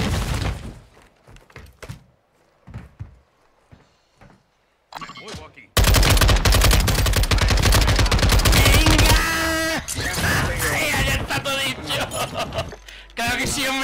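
SO-14 rifle fire in Warzone starts as scattered sharp shots, then breaks into a loud, dense stretch of rapid gunfire with thuds and shattering impacts running to the end.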